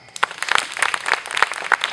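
A small group claps for volunteer teachers at a community performance class, a sparse scatter of hand claps, fairly close and moderately quiet, with no talk.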